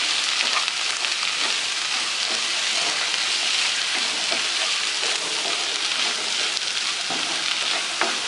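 Dal frying in a pan as chili powder and salt are stirred in, giving a steady close sizzle with scraping and stirring clicks throughout, no voices.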